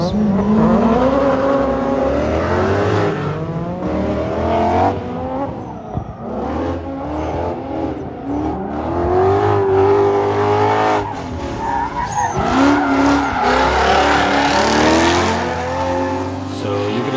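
A Ford Mustang on a drift run roars and revs hard while its tires squeal continuously, loud and close throughout, with engine pitch rising and falling across the run.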